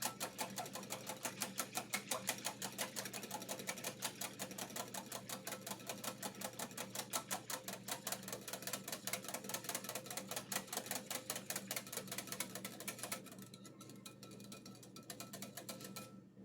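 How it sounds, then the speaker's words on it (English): Fast, steady whisking of sour cream in a bowl, a loud rapid rhythmic clicking of the whisk against the bowl that runs without a break, then turns quieter and looser for the last few seconds. "I've added 1 cup of sour cream. I'm going to whisk this until it's incorporated."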